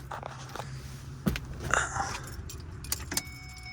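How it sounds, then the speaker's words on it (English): Key ring jangling as the key is pulled from the ignition of a 2009 Ford Escape Hybrid, with a sharp metallic click followed by loud close rattling of keys and light handling noises. "I'm gonna pull the key out"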